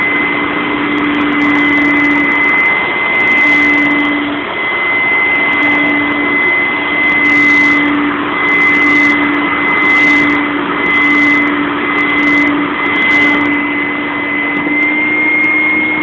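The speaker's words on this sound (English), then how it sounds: "I'm going to scrub it and instead vacuum and get it cleaned up" A steady, loud vacuum motor whine from a Dirt Devil Spot Scrubber runs throughout with a constant high-pitched tone and a low hum, no voices.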